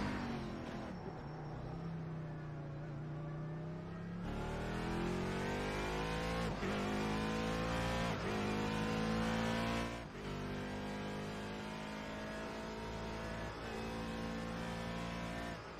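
Race car engine in a sim racing game on warm-up laps, revving up and down through the gears with rising pitch sweeps, shift dips and a steady loud drone close by.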